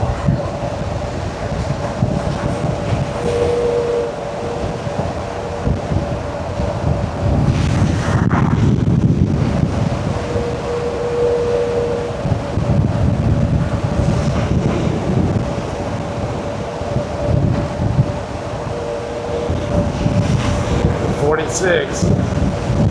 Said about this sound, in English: this is extremely windy right now